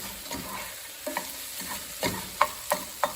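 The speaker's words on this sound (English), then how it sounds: "You see it in there sizzling away." Sausage sizzles and crackles quietly in a pot, with soft stirring scrapes and a few sharper pops toward the end.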